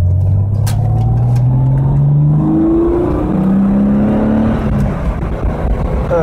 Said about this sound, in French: dès l'appui sur la pédale, tout de suite ça prend des tours vite